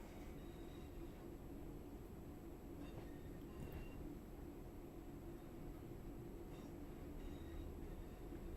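Train running in the Train Sim World 5 simulator, a steady low rumble of rolling stock with faint higher rail squeals, continuous and evenly loud throughout with no talk.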